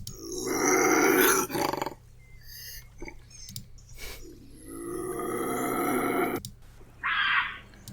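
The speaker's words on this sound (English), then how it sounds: "that's not what I thought a bobcat would sound like" Bobcat calls, harsh raspy yowls and growls in several bursts separated by short pauses, fairly loud and close, with one short high squeal near the end.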